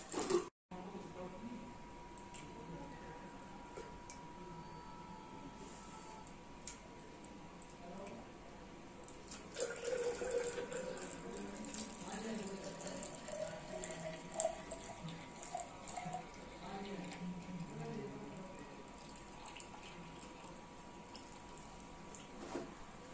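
Water runs steadily into a tank being filled to the 1 meter mark while testing a hydrostatic level transmitter, a continuous faucet-like flow that grows somewhat fuller midway, with a faint background hum.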